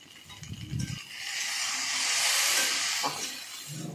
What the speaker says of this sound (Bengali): এখন আমি আলুটা ভেজে নিচ্ছি